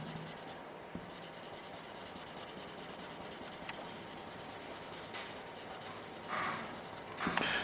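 Graphite pencil shading on paper, darkening broad areas of a perspective drawing of a machine part: a steady, close, dry scratching rub that continues almost without a break, with a few small taps and louder strokes near the end.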